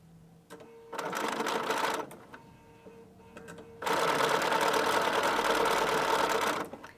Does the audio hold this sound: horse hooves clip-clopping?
no